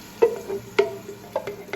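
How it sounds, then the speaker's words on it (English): Blended crushed tomatoes poured into a pan of hot garlic and oil, giving a few soft, separate splashy sizzles and stirring scrapes close by, with no talk. "And now we're gonna add that to our garlic and oil."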